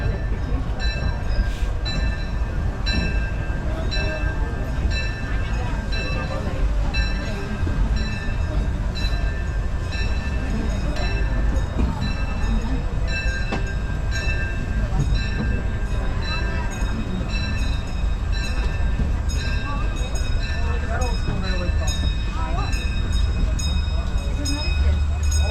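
Disneyland Railroad steam train in Anaheim rolling steadily along its rails, a continuous loud rumble and clatter with faint voices in the background throughout.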